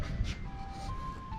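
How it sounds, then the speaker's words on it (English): An ice cream truck's chime drifts in faintly from far off, a thin tonal melody line over quiet outdoor background noise. "I hear the ice cream truck."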